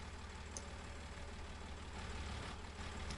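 A small tractor idles in Farming Simulator 19. It gives a low, steady engine rumble at a constant level with faint clicks on top and no talk.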